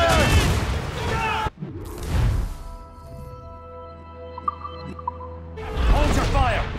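Cannon volleys from sailing warships in the naval combat of Assassin's Creed Rogue, heavy booms and whooshing blasts around shouted crew commands, with a quieter stretch of ship ambience in the middle.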